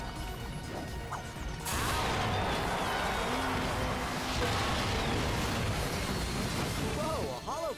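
Crates being smashed in the Ratchet & Clank video game, a loud crashing burst followed by a sustained clatter of breaking and game effects, with a voice speaking over it.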